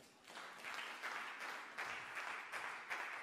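A church congregation breaks into applause during a French-language sermon, a dense sustained clapping that swells and holds for a few seconds in a reverberant hall, fairly distant and moderate in level.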